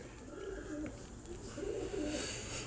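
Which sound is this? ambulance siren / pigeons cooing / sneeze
pigeons cooing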